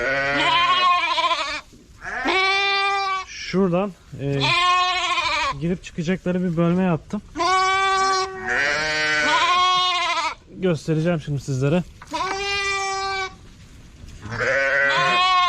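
Lambs separated from their mothers for a couple of hours bleat loudly and repeatedly in a pen, their cries nearly continuous and close, with someone talking between and over them.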